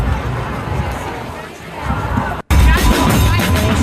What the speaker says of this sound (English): Eyewitness video captured the impassioned crowd chanting and marching through the city streets.